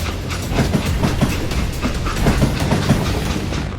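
A train in the video game Call of Juarez: Gunslinger rumbles along at close range with a steady, loud roar and rhythmic clickety-clack of wheels over rail joints.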